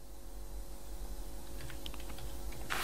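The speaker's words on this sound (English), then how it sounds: "we just have to type" Brief keystrokes on a computer keyboard, a few scattered clicks over a steady low room hum, then a louder burst of taps at the end, with no talking.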